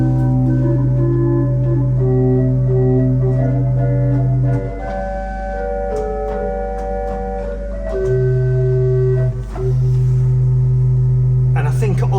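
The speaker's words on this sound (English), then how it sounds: "is an 8-foot stopped diapason, which sounds like this" An H.E. Prested pipe organ at Marske Church plays its 8-foot stopped diapason stop: soft, steady held notes and chords that sustain, shift briefly in the middle, then settle back into a long hold.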